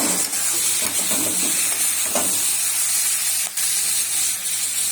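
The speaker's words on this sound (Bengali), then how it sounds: "করলা আর মিষ্টি কুমড়ো ভাজা হচ্ছে।" Slices of bitter gourd and pumpkin fry in oil, giving a constant bright hiss close by, broken by a few sharp crackles and spits.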